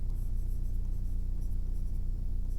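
Pencil or pen scratching on paper while working a maths problem by hand, a steady close scraping with faint bursts and a low hum underneath, no voices.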